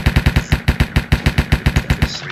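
Rapid automatic fire from an M4 rifle in the blocky video game Minecraft, about sixteen sharp shots in a steady fast burst, loud and close, with no talking.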